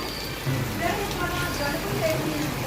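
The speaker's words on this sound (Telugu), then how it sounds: "చూసారా ఎంత వర్షం అయితే పడుతుందో" Heavy rain pours down in a steady, dense hiss, drumming on surfaces without a break throughout.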